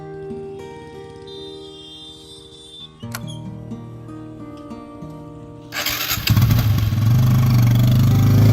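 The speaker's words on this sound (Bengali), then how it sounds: "বাইকে ওঠো।" A motorcycle engine catches after a quiet stretch and then runs loud and close with a steady rumbling drone that fills the final few seconds.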